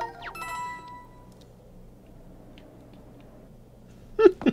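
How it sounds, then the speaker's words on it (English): A short ringing jingle from the Toad Finder item in Paper Mario: The Origami King, sounding near the end as a brief bright chime over quiet game ambience, after an earlier tonal game sound. "Is that the ringing?"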